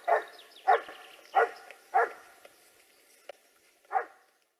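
Hunting dogs bark at a wild boar with large tusks, giving five loud, evenly spaced barks close by and then a sharp click near the end.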